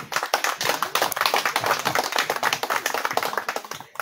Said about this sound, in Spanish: Lo recibimos con un fuerte, fuerte aplauso